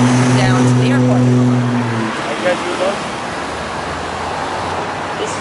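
A large truck is manoeuvred and parked beside another truck outdoors, its engine running loud and close with a low steady tone before dropping to a quieter idle rumble.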